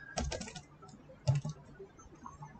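Code being typed on a computer keyboard, two short bursts of quick key clicks separated by a pause, close and quiet, with no talking.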